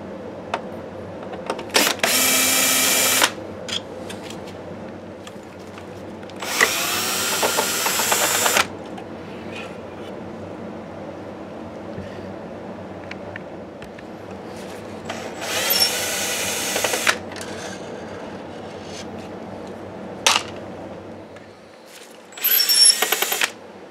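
Power drill or electric screwdriver backing screws out of a Sony VPL-HW45ES SXRD video projector during repair, heard as four short whirring bursts separated by pauses with faint handling noise between.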